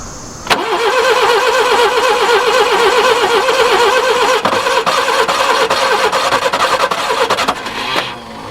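A Subaru Brumby ute engine cranks over steadily on its starter for about seven seconds, a loud rhythmic churning that keeps failing to catch, with brief pauses and clicks near the end before it stops.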